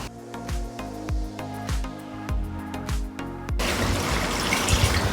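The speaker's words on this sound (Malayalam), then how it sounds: "ഓക്കെ, ഒരു 1/2 കപ്പ് വെള്ളം കൂടി." Water being poured into a hot pan of chickpea curry, heard first as a series of rhythmic clinks and knocks that give way to a loud, continuous rushing pour near the mic.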